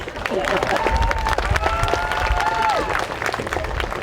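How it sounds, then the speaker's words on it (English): Scattered clapping from a graduation ceremony audience rises under a person's voice speaking over it, a loose patter of hands that continues through the clip. "Seamus, you can clap for Seamus, it's okay."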